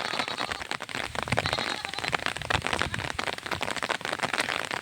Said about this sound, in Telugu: వర్షం వస్తుందండి